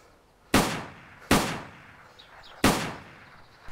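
Three loud gunshots in DayZ at a military base, each a sharp crack with a decaying tail, spaced roughly a second apart, with faint game ambience between them.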